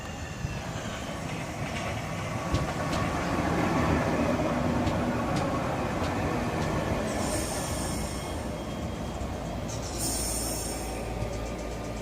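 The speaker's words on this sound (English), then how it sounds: "And now arriving in is 2 Delta 50, the 1535 Southeastern service from Gravesend to London Charing Cross." A Southeastern Class 465 electric train pulls into Northfleet station on the Gravesend to London Charing Cross service, a steady rumble of wheels on rails with brief high squeals from the brakes near the end, loud and close, with no talking.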